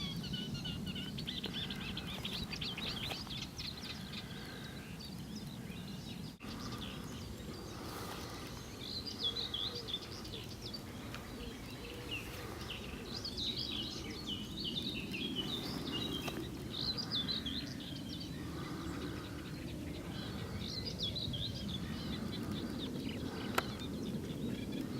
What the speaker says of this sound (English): And the willow warbler, perhaps we can hear behind us.